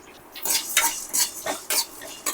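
Coriander seeds, cloves and a piece of cinnamon dry-roasting in a pan for chicken curry, stirred with a spoon in about six quick scraping strokes with faint sizzling between them.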